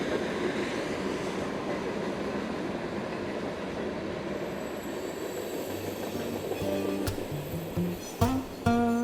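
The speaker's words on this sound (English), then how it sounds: "train's coming." A train rumbles past close by in a broad, continuous roar, with a squealing wheel tone and clanking rising toward the end, and no voices.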